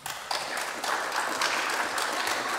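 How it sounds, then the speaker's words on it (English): Audience applause after a short lightning talk at a tech event, a steady wash of many hands clapping that swells after a brief start and holds evenly throughout. "so let's clap harder."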